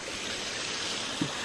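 Water flowing steadily through rice terraces, a continuous, fairly loud rushing wash with one brief knock near the end.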